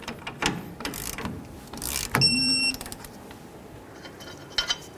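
A torque wrench tightening the tie rod sleeve clamp nuts on a 1992-2000 Chevy Tahoe, a series of close ratcheting clicks and metallic ticks, with a brief electronic beep partway through.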